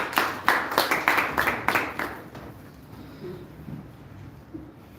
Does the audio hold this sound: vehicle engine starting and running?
no